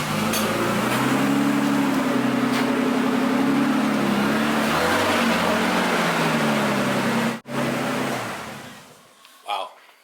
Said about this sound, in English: So he's gonna move the car back really quick